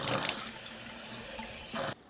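Water runs from a sink tap after a whole-house reverse osmosis install, a steady rushing splash with sputtering bursts at the start and near the end before it cuts off.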